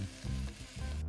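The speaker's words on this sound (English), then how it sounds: "add a little bit more oil, and then we're gonna throw in our vegetables" Vegetables thrown into hot oil in a pan for a stew, sizzling and crackling steadily with a few soft bumps as they settle, close and fairly quiet.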